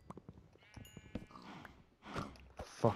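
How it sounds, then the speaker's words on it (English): Sheep bleating in a sky island survival video game, several short bleats scattered among game sounds and clicks, moderately loud and close, with no talk over them. "Oh, it's a fucking sheep."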